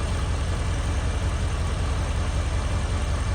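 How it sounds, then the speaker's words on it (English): A 2004 Jeep Grand Cherokee 4.7 V8 idles steadily at close range, a continuous low rumble with a broadband hiss that never changes over the few seconds. "It's only been idling here about 3 to 5 minutes."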